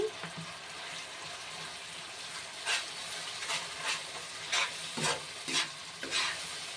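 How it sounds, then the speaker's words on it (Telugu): Cashew paste with curd and salt fries in a pan with a low, steady sizzle, while a spoon stirs it in rhythmic, evenly spaced scraping strokes up close, with no voices. "కాజు పేస్ట్ అంతా బాగా వేగాలి."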